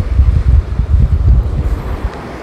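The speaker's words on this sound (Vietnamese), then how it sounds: "Đó thì gió biển lên một chút." Sea wind blows steadily across a sandy beach, buffeting the microphone with loud, gusty low rumbles, with no voices.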